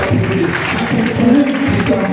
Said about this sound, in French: Arrêtez d'applaudir.